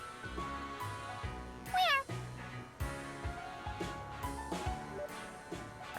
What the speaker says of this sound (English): Oh, the kitty.